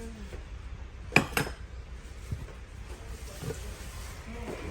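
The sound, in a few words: handling a set of cookware dishes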